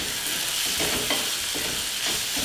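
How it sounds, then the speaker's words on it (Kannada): Chapati dough being mixed at home, giving a steady, close scraping and stirring texture that continues without pause for a couple of seconds. "ಈ ರೀತಿ ನೋಡಿ ಮಿಕ್ಸ್ ಮಾಡ್ಕೊಂಡು ಆಗಿದೆ"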